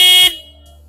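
A BMW R1250GS motorcycle horn gives a single short loud honk, roughly a quarter second long, then cuts off into a faint low hum.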